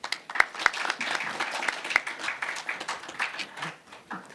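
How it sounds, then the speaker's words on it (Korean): Audience applause welcoming panelists at a science and policing forum panel discussion, a steady wash of many hands clapping from a crowd in a hall, with a few sharper claps standing out near the front. "큰 박수로 환영해 주시면 감사하겠습니다"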